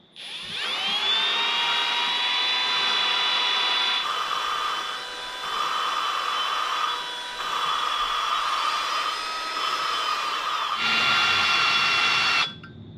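An electric drill on its lowest speed spins a valve against its seat with grinding compound on a D-series cylinder head, a steady high whine that dips and rises in pitch as it is pulled away and pressed back.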